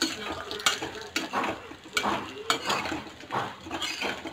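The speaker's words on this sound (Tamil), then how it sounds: "நல்லா மிக்ஸ் பண்ணிக்கலாம்" Chicken 65 tossed with curry leaves in a hot pan, a soft continuous sizzle broken by regular spoon knocks and scrapes against the metal, close up, with no talking.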